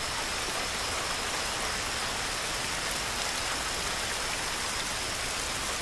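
Steady rain falls, a dense even hiss of drops with no pauses, talk or thunder.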